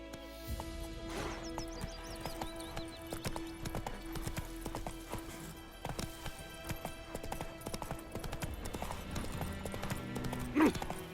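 Horse hooves clip-clop steadily in Witcher 3 in a quick, even trotting rhythm at moderate distance under game music, with a brief whinny partway through and some faint talk.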